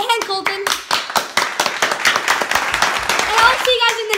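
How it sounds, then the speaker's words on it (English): A small group claps in quick, uneven bursts, close and lively, with a voice and chatter mixed in around the clapping. "let's give a round of applause for Cade and Colton."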